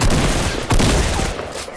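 Gunfire in a video game where the player is shot from behind, a loud, dense burst of rapid shots filling the whole moment at close range with no pause.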